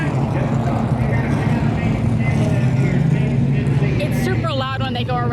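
Race cars lapping a track, heard as a dense, steady engine roar under continuous talking, with a louder whining pass near the end.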